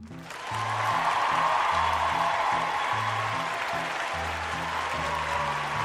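An audience breaks into steady, sustained applause that stays loud and even throughout, with a low musical bass line running underneath the clapping.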